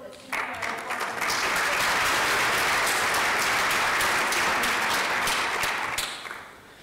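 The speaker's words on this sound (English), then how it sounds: "I think we should applaud us." Conference attendees burst into sustained applause, a dense, loud roar of many hands that swells quickly, holds steady for several seconds, then tapers off.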